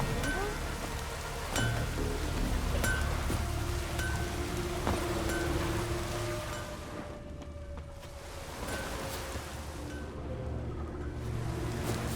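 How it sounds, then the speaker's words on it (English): Steady broadband rain hiss from the video game The Witcher 3 fills the scene, continuous and fairly loud, easing briefly partway through before returning, with faint tonal ambience underneath. "Maybe we needed a spot of rain."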